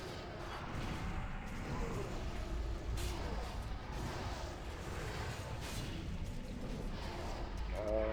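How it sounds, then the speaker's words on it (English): Arcane Explosion spell effects in World of Warcraft during a Tempest Keep raid: dense, crackling bursts and whooshes layered continuously with other combat noise at steady loudness, with voices talking over it. "Arcane Explosion"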